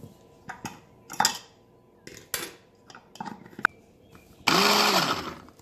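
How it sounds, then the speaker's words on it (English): Garlic is crushed in a kitchen with a series of sharp, separate knocks and taps, close and fairly quiet, ending in a louder, sustained grinding scrape near the end; no one speaks. "I crush the garlic."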